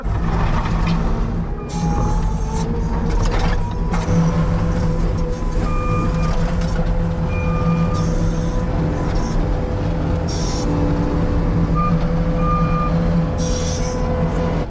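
Dump truck delivering gravel: a loud, steady diesel engine rumble runs throughout, with repeated high reversing beeps and short bursts of air release on top.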